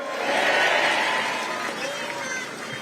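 A crowd at a Korean Democratic Party political gathering breaks into loud, sustained applause and cheering that fills the space, holding steady before easing slightly toward the end.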